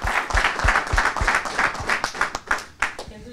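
Scattered clapping from a small audience at a post-fight MMA press conference (ARES 28), fairly close, with a voice speaking over it.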